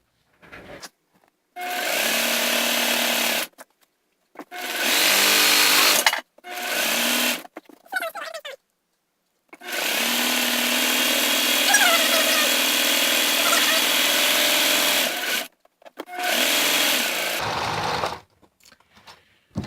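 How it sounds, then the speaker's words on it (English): A sewing machine stitches a seam down pajama pants in loud, close whirring bursts of a few seconds each, with short pauses between runs. "We're sewing this right here, all the way down."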